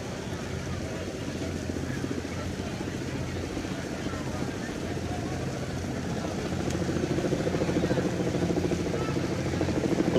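A helicopter circles above an ANTIFA street protest at night, its whirling rotor making a steady, droning rumble that fills the scene and grows slightly louder toward the end, with faint crowd voices underneath.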